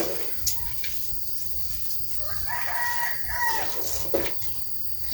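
A rooster crows near a rural vegetable plot. The crow is moderately close and rises over steady background ambience, with a few short clucks or bird calls around it.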